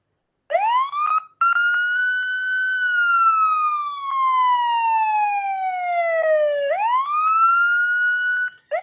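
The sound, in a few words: police siren sound played for detection demo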